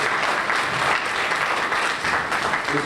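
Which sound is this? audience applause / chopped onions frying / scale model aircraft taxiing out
audience applause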